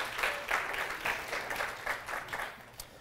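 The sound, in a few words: applause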